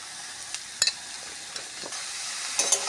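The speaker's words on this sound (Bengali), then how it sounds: "লঙ্কা আর বেগুন একসঙ্গে দিয়ে দেবো" Brinjal, green chilli and onion fry together in a karai on low heat, giving a close, steady sizzle with several quick scraping stirs and clicks of a spatula against the pan.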